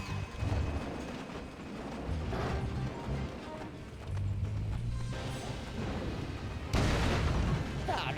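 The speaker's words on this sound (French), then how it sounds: "Oh, quelle explosion!" Mega bomb blast in Skylanders: Spyro's Adventure, a loud game explosion with rumbling low end in a dense mix of game sound effects, with a second burst swelling near the end.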